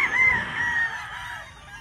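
A rooster gives a single loud, drawn-out crow close by in the morning, tapering off after a second and a half.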